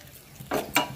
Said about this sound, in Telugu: ఇలా కొద్దిగా అన్నీ వేయించేసుకోవాలి ఫస్ట్ మనం